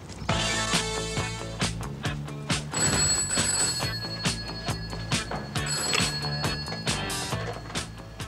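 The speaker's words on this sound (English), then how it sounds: "Los Angeles is on the red phone, Mr. Silver." A red telephone bell rings in an office scene from a 1982 British TV drama, with bursts of ringing over a busy backing of music and thumps.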